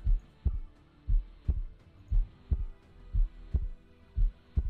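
Steady heartbeat from a Minecraft modpack game, a regular thumping double pulse repeating about ten times, loud and low, with a faint hum beneath and no talk.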